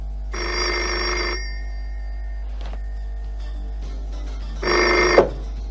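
A telephone rings twice in two electronic bursts separated by a pause, the second cut short as it is picked up.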